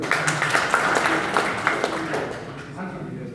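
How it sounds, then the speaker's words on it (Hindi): Trainees in an assistant loco pilot training class clap for a classmate, a short burst of scattered applause that fades out toward the end. "अभिषेक को जोरदार ताली दो"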